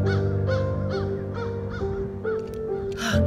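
A crow-like bird calls outdoors with a run of six or seven hoarse, evenly spaced caws, fairly near and clear, ending in a louder rasping call.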